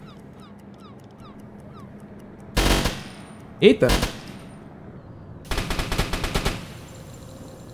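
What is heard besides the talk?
machine gun firing in the video game UBOAT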